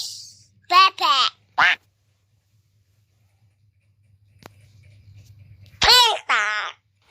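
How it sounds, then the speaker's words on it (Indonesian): A duck quacks in a few short, nasal bursts, then quacks again after a quiet pause; the recording is clear and close. "Bebek."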